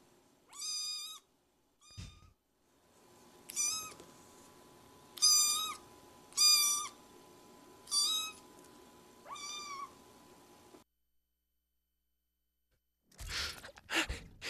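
A cat meows on camera in a series of distinct, fairly close calls, about seven rising and falling cries spaced a second or two apart, followed by near silence and a brief rustle.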